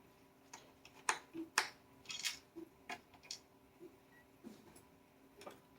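A small screwdriver works screws out of the case of a PowerSpec/Clevo 1530 laptop, giving a string of faint, irregular clicks and ticks close by in a quiet room.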